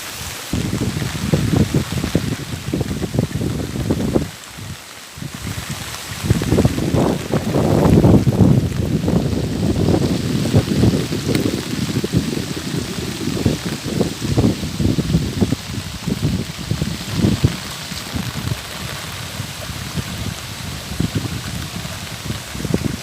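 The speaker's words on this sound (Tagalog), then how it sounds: "Dumaan sa kalsada ang tubig." Heavy typhoon rain and floodwater running along a road in a village, a steady loud wash of water and wind noise that barely lets up, with no talking heard.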